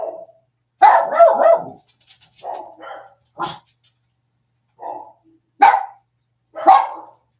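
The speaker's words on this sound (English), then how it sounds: "That dog's out there barking, and then it's making my dog in here bark." A dog barking outside, sharp barks arriving in an irregular burst of several quick barks, then single barks spaced a second or so apart, fairly close and loud with quiet between.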